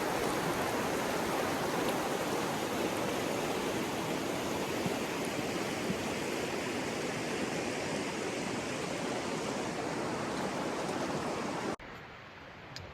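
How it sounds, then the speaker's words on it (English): The North Fork Boise River flows in a loud, constant broadband rush of moving water heard close by, holding steady for most of the stretch before abruptly cutting to a much quieter background near the end. "River flows are good right now."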